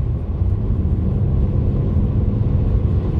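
A car's steady engine and road rumble fills the cabin as it accelerates on a road during a wheel alignment test drive, a low, even drone with no voices.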